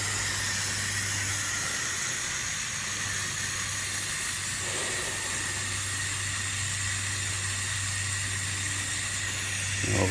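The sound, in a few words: ground fogger with homemade ice box chiller emitting fog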